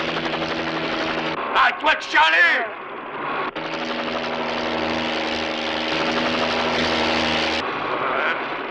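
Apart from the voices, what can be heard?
police helicopters flying overhead, from a French film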